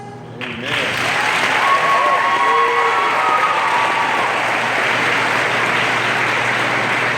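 A burst of audience applause swells up after a gospel hymn at a sorority student achievement event, dense clapping holding steady and loud, with faint voices and a sustained vocal note mixed in near the start.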